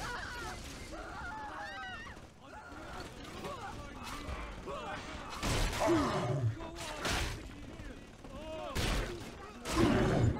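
Automated turret gunfire in Bioshock 2: bursts of mechanical shots and clattering impacts come in irregular clusters amid game noise, growing louder in places, with speech running underneath.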